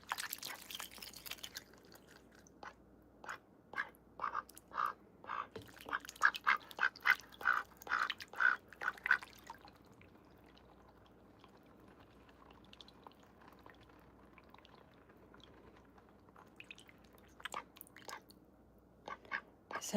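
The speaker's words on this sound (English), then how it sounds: "Is everyone enjoying the lemonade ASMR by Olivia Gray the Duck" A duck drinking lemonade makes quick wet slurping and dabbling sounds mixed with soft quacks, close and fairly faint, in bursts with a quieter pause in the middle.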